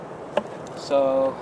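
Honeybees buzz at an open, thriving hive crowded with brood frames, a steady nearby drone swelling into a louder hum near the end, with a brief knock and a short spoken word.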